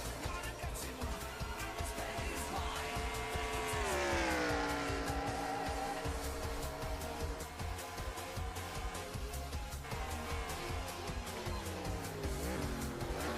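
Race cars in NASCAR Racing 2003 roar steadily throughout, several engines droning together with pitch sweeps as they shift and pass, loud and continuous around a track, with no talking.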